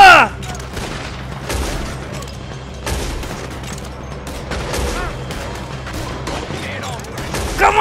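Rapid gunfire in the video game Red Dead Redemption 2, dense overlapping shots and bangs running steadily throughout, fairly loud, with a voice heard briefly alongside.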